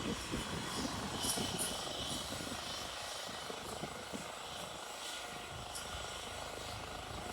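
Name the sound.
helicopter landed nearby, engine running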